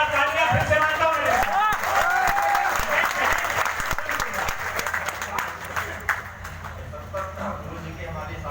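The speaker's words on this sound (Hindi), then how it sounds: "एक बार तालियां फिर से मारता हूं" A Hindi poetry recital audience claps in a loud, sustained burst that gradually thins out, with voices and scattered background sounds mixed in.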